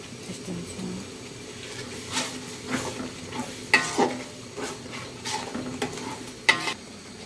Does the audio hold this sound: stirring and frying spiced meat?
yes